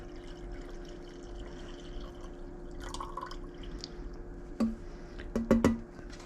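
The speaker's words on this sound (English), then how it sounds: "But let's add the starter tea in here." Starter tea for homemade kombucha pours briefly into a wonky-bottomed jar, a few close liquid splashes and drips near the end over a quiet background hum.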